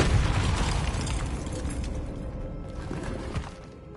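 In Hogwarts Legacy, the Depulso spell is cast with a heavy whooshing burst that rumbles and fades over a few seconds, loud and close, with no talk.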